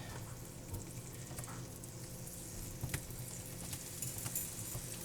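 Soft, steady sizzling of food frying in a hot pan, a quiet crackle with a few small pops, no talking.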